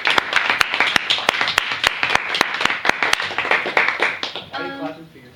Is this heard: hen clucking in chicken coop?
no